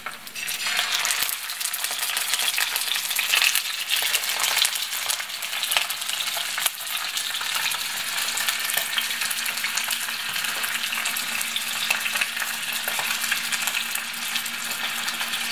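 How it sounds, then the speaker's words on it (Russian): Kupaty sausages sizzle and crackle steadily in a hot pan, a dense continuous frying noise with a few faint scrapes of stirring. "выложили и будем мы зажаривать с обоих сторон"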